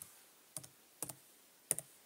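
Quiet computer mouse clicks on a save menu come in close double taps, four pairs spread over a couple of seconds against near silence.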